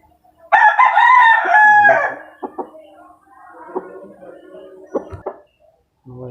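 A gray rooster crows loudly and close by, one full crow followed by softer clucks and scattered knocks, with quiet talk in the background.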